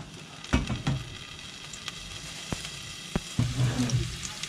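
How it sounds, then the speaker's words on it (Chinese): Ginger and garlic dropped into hot oil in a wok, giving a soft, steady sizzle with a few sharp clicks and a louder crackling burst near the end. "放姜蒜"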